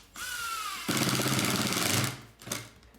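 A Ryobi brushless impact driver drives a screw: motor whir spins up, then a loud, rapid hammering rattle for about a second, a pause, and a short final burst of impacts, close and without talk.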